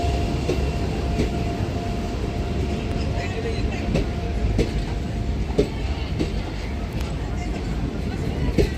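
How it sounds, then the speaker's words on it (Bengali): A local train stands at Naihati station, its low rumble and rhythmic mechanical clatter running steadily throughout, with people's voices mixed in over the station noise. "এই যে নৈহাটিতে দাঁড়িয়ে আছে ট্রেনটা এটা এখন আমার ব্যান্ডেলের দিকে ছেড়ে চলে যাবে"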